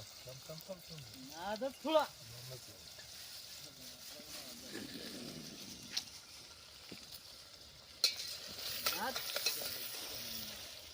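Prawns go into a pan over an outdoor fire at a group fish party in the forest, frying with a steady sizzle while being stirred with scraping strokes, and voices talk over it at times.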